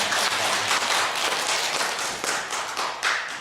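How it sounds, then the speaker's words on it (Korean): A church congregation applauds, a dense burst of many hands clapping together that holds steady and rises slightly near the end. "우리 하나님께 먼저 영광의 박수 한번 올려드리겠습니다."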